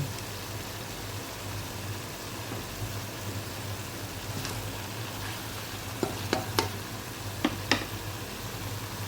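Chicken adobo with lemongrass and bay leaves stirred in a pan: a constant, fairly faint sizzle from the pan, with several sharp utensil taps near the end.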